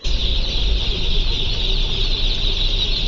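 Day-old broiler chicks on arrival at a poultry farm give a steady, dense chorus of high peeping, continuous and fairly loud throughout, over a low rumbling background.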